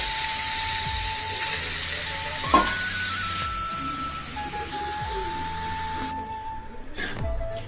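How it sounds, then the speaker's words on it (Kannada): Chopped vegetables fry in oil with cumin, giving a steady sizzle with occasional scraping stirs and clinks of a utensil against the pan, heard up close. "ಹೀಗೆ ಇವಾಗ ಏನೇನು ವೆಜಿಟೇಬಲ್ ಕಟ್ ಮಾಡ್ಕೊಂಡಿದ್ರೆ ಎಲ್ಲಾನು ಫ್ರೈ ಮಾಡ್ಕೋಬೇಕು ಎಣ್ಣೆಯಲ್ಲಿ"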